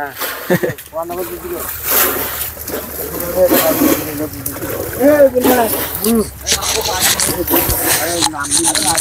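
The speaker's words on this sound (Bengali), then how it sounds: "পানি সেচে ফেলাবেন।" Water being bailed out of a village pond to catch fish, with splashing and sloshing throughout, heard under steady talk from several people.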